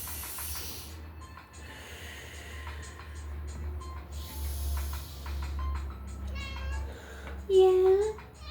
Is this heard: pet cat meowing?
yes